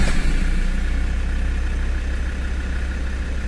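A Land Rover Discovery 2 Td5 diesel engine catches and settles straight into a steady, loud idle, with a low throbbing rumble that continues without a break.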